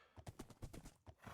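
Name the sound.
horse in the Minecraft video game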